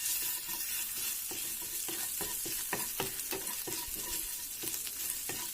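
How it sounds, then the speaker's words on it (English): Ginger garlic paste sizzles loudly in hot oil for an egg masala, with a continuous frying hiss broken by repeated scraping taps as a spoon stirs the pan. "To the same oil, I'm going to add about half a teaspoon of ginger garlic paste"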